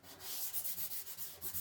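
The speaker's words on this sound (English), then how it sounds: "just get a rubber and rub it out" An eraser rubs out pencil on paper in quick back-and-forth scrubbing strokes that form a soft, rhythmic hiss, heard close and quiet.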